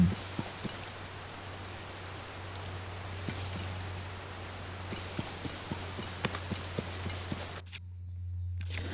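Steady rainfall in Tears of the Kingdom spreads a broad hiss across the scene, with horse hooves clip-clopping irregularly on top, until the rain briefly cuts out near the end.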